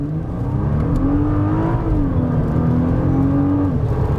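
A 2020 Nissan GT-R 50th Anniversary accelerates with a loud, smooth engine drone whose pitch rises steadily and then drops, heard from inside the car.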